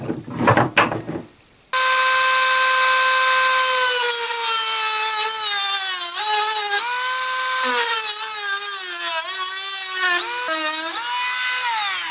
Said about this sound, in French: je vais donner un petit coup de meule pour refaire la fente